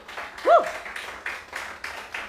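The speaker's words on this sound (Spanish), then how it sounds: "¿Cuántos aplauden al Señor?" A church congregation claps during a sermon, several rhythmic bursts of applause at moderate distance, with a brief vocal shout near the start.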